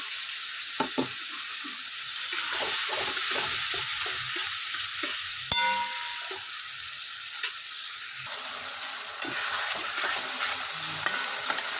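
Tomato goes into a hot frying pan with garlic for a mutton curry, giving a steady close sizzle broken by scraping stir strokes and a sharp clink, with no one talking.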